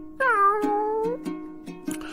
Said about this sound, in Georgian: ეშმაკმა კატამ თავი მოიკატუნა და უპასუხა